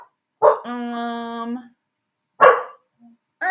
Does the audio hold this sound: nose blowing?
no